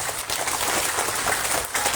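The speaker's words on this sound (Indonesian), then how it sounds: "Tepuk tangan untuk beliau." Crowd applause for a guest of honour at a Nahdlatul Wathan regional assembly in Dompu, a steady dense patter of many hands clapping for about two seconds, fairly loud and unbroken.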